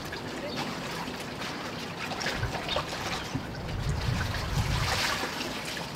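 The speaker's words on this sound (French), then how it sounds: "Ma combinaison, hop, je la rince aussi." Water splashes and trickles over a diving wetsuit being rinsed, a close, steady wash of uneven splashing that swells slightly toward the end, with no speech.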